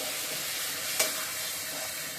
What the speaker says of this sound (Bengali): আবার একটু নেড়ে দিয়ে দিচ্ছি।